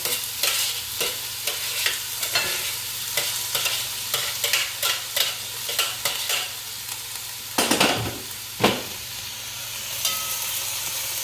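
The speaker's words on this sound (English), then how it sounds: "I'm just frying it maybe just for 2 or 3 minutes and let the aroma come out" Seasonings for a vegetarian Trinidad callaloo fry in a pot with a constant sizzle, punctuated by repeated rhythmic scrapes and taps of a utensil stirring.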